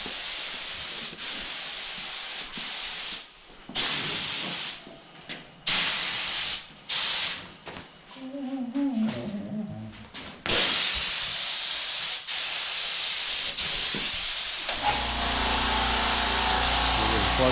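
A spray gun lays primer onto a 1968 Buick Skylark Convertible in a paint-prep setting, with loud hissing bursts that start and stop repeatedly, short pauses, a brief rattle, and then a long continuous spray.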